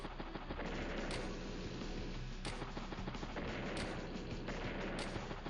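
Tank fire and battle blasts in the video game Advance Wars: Days of Ruin, a steady dense wash of rapid explosive bursts with a few brighter high cracks, loud and with no voices.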